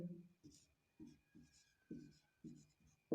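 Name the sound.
writing a proof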